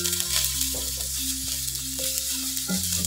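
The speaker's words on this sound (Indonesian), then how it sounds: "Selanjutnya mau aku tumis perbawangan, ini yang sudah aku iris tadi." Sliced shallots, garlic and onion sizzle steadily in a hot pan, a dense continuous frying hiss with occasional stirring and a low steady hum underneath.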